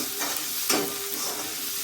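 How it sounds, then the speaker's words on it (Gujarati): Onion fries in a pan for palak paneer, giving a steady close sizzle with one brief spatula stir, and no voices. "ડુંગળીને શેકાવા દેવાની"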